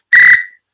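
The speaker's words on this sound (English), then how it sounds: "And I got my whistle right here." A single sharp whistle blast, loud and close, held for about a quarter second before a short fading tail, with nothing else around it.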